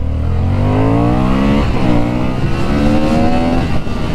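A 2025 Honda Hornet 750 motorcycle accelerating hard, its engine note rising steeply through the revs, dipping briefly at a gear change and then climbing again. The sound is loud, close and sustained, with no voices.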